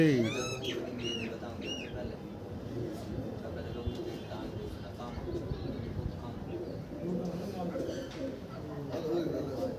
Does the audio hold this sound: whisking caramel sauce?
no